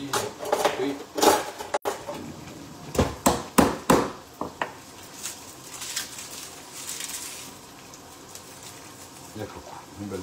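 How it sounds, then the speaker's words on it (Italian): Small hammer crushing a head of garlic in a kitchen while making fish soup: a quick run of sharp, close knocks, irregular and clustered, under occasional talk. "una bella testa d'aglio, martellino"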